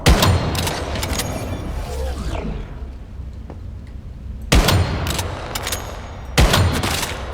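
Gunfire in a first-person shooter game, three loud bursts of rapid shots spaced a couple of seconds apart, with a quieter stretch between them.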